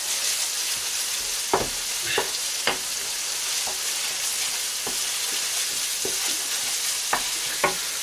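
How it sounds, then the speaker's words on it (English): Chana masala frying in a pan with tomato paste being stirred in, a steady sizzle broken by a handful of short scraping strokes of the spoon at irregular intervals, close and moderately loud. "So I'm going to get this in, mix in the tomato paste,"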